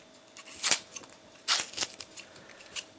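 Scissors trim the beards off ingredients for a shrimp and pepper pie. A few short, crisp snips sound close by in quick succession, with quiet pauses between them.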